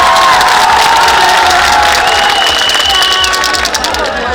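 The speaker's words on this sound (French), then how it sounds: "Applaudissez-vous." A big outdoor campaign rally crowd at Place MOF in Yamoussoukro claps and cheers loudly, with shouts, whistles and a near, sustained roar from many voices.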